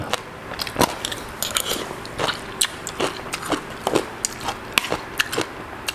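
Close-up crunchy chewing and biting on som tam with fermented fish sauce and crispy homemade pork belly, sharp crackling crunches coming in irregular bursts between quieter chewing, with no talking.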